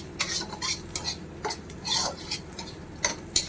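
Nigella seeds and whole cumin tempering with chopped ginger and green chilli in hot mustard oil in a pan, with a soft sizzle under repeated scraping strokes of a stirring spoon, close by.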